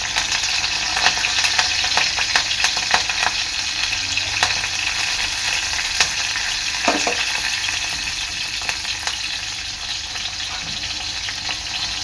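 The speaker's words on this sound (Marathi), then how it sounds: "आपलं तेल चांगलं गरम झालेलं आहे आता यामध्ये टाकणार आहे मी जिरं मिरची कडीपत्ता" Cumin seeds, chillies and curry leaves hit hot oil for a drumstick and potato curry, giving a loud, continuous crackling sizzle that eases slightly over time, with a few faint clinks and no voices.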